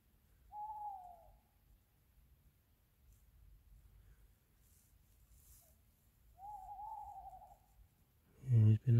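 At night in the Peak District, a persistent owl gives two clear hoots about six seconds apart against quiet low background hiss, followed by a sudden close rustle at the end.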